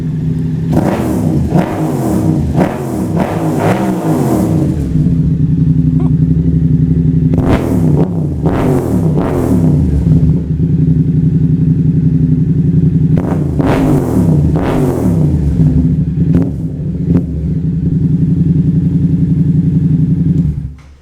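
A loud 2022 Yamaha R7 with a full titanium and carbon Titan GP2 exhaust revs hard again and again, its exhaust snarling up and dropping back between bursts over a steady rumbling idle, close by.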